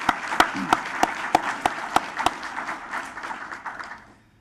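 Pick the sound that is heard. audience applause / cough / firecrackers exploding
audience applause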